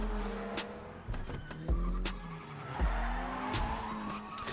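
Cars drifting in GTA Online, with repeated tire skids and screeches over revving engines, several sharp bursts in quick succession at fairly low level, with no talk.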